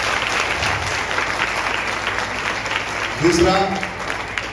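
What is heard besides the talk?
audience applause welcoming everyone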